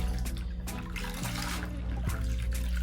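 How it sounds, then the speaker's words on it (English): Water splashes and trickles as a wall is wiped down during cleaning, with a steady wet sloshing and dripping close by and a few sharper splashes, no talking. "I'm splashing water all on this carpet."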